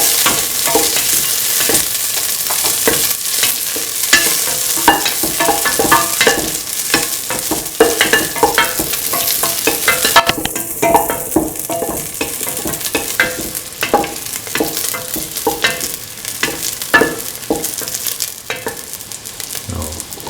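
Raisins frying in a pan for a coconut milk vermicelli dish, a loud continuous sizzle with frequent stirring scrapes and taps throughout, close up and without talking.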